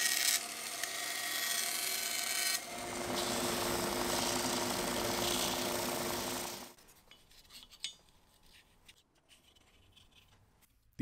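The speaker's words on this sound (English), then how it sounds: "I could go over to the bandsaw and cut them out." Bandsaw cutting oak handle scales, a steady rasping blade-through-wood noise for several seconds that stops abruptly, followed by quieter shop handling sounds and light knocks.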